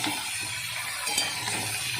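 Ground spices with chilli, coriander, cumin and turmeric sautéed in a pan for a Bengali potato and cauliflower curry, giving a steady soft sizzle with faint stirring scrapes, close and continuous.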